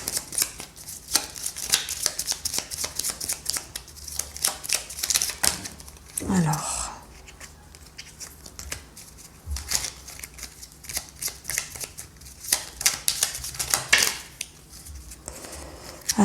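Tarot cards shuffled by hand at close range, in rapid riffling bursts of crisp papery flicks with short pauses, continuing through the whole stretch, while someone speaks in between.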